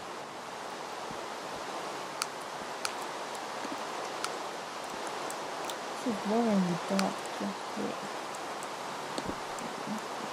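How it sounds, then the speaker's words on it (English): Rain falling in Minecraft Beta 1.8.1 makes a steady, even hiss of broadband noise throughout, while people keep talking over it. "It's raining."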